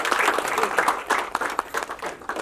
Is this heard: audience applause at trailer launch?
yes